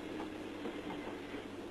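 Inside a moving train carriage, a steady low rumble and hiss of the wagon in motion, continuous and fairly quiet, with no voices.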